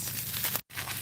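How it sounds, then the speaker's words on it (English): Plastic wrapping crinkles as a head of lettuce is unwrapped, a brief close rustle of crackling bursts broken by a split-second pause before the crinkling resumes. "I'm just going to unwrap her lettuce."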